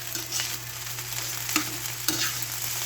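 Fried rice with fried hotdog, garlic and onion is stir-fried in a pan, giving a steady close sizzle with a few sharp spatula knocks and scrapes.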